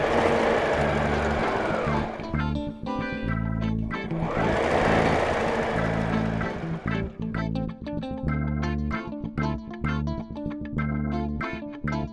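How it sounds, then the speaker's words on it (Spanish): A sewing machine runs in rapid bursts while stitching around the edge of a fabric handbag, its close mechanical whir stopping and starting in short rhythmic runs between longer continuous passes. "cosemos todo alrededor del contorno nuevamente"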